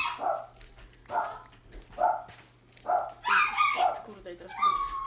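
Dogs bark repeatedly in sharp bursts, several loud barks spaced about a second apart, then a cluster of higher yips and whining toward the end.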